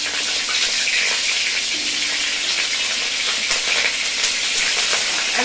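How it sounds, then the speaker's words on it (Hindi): Cauliflower florets frying in hot oil in a pan, a steady dense sizzle that stays loud and close throughout with no talk. "तो पहले मैं थोड़ा सा तेल डाल देती हूँ और इसमें पहले गोभी फ्राई कर लेते हैं"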